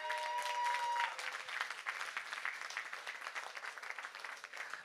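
An outdoor crowd at the Relais pour la Vie opening ceremony in Rixensart claps for a passing scout troop, a fairly quiet, distant patter of applause, with a short tonal sound at the start.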